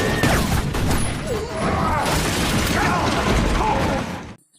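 Gunfire erupts in an action film shootout, with dense, loud volleys of shots and crashing impacts mixed with voices before cutting to silence.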